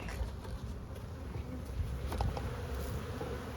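Honeybees buzzing at the entrance of a weak hive with only a thin stream of foragers arriving, a steady, fairly close insect drone with no talking.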